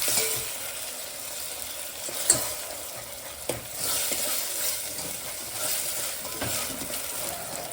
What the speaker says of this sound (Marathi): टमाटा कांदा चांगलं परतू द्यायचं